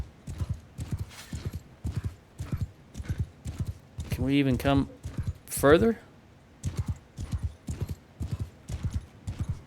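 Horse hooves clip-clopping at a steady rhythmic gallop in the video game Mount & Blade II Bannerlord, a regular run of thuds, briefly overlaid by someone talking and a whinny-like call midway.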